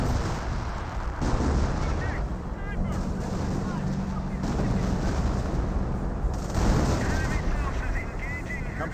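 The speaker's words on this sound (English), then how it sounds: "That looks like a creeping barrage ring on in as well." Artillery shells from a creeping barrage pound steadily in the Company of Heroes strategy game, a run of heavy booms and rumbling blasts spread over several seconds beneath continuous battle noise.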